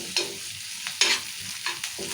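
Goat brain fry with coriander and mint is stirred in a hot oiled pan, a spoon scraping in a few quick strokes over a steady background sizzle, close and alone.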